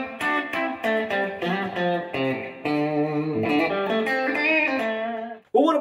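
An electric guitar with noiseless stacked humbucker pickups plays a distorted metal tone, first a run of choppy chords and then sustained ringing notes, loud and up front before a sudden cut near the end.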